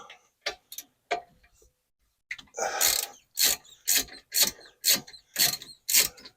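A ratchet wrench breaks loose the lower rear brake bolt on a Sprinter van during a brake pad change: a few scattered clicks, a short pause, then a run of loud, evenly spaced ratcheting clicks close by.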